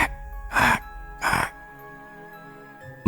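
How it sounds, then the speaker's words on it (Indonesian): Loud bird calling from above a house as a story sound effect, two harsh, crow-like caws about half a second apart, loud and close, followed by quiet. "aku juga mendengar suara burung yang terdengar dengan sangat keras dan jelas"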